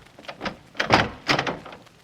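A door handle is tried and a door opened as a sound effect in an old-time radio mystery drama: a few close clunks and rattling knocks in quick succession, with no talking.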